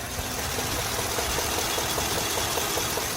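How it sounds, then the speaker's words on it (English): A brand-new 2026 Ford F-150 single cab 4x4 with the 5-liter Coyote V8 runs at a steady idle with an odd noise, a continuous close mechanical hum and rattle with faint rhythmic ticking throughout. "I just picked up a 2026 F-150 single cab, 5-liter V8, 4x4. But the engine is making a weird noise."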